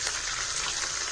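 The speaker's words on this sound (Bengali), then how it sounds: "চলো মাছ ভেজে নেবো এরকম।" Fish frying in a pan gives a steady, close, hissing sizzle that holds evenly throughout, with a small knock at the very end.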